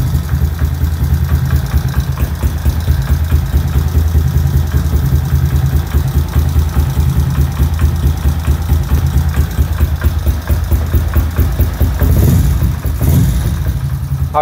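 A rebuilt Kawasaki ZX130 motorcycle engine idles with its valves deliberately left unadjusted, giving a loud, close, steady low chug with a busy mechanical clatter. No one speaks.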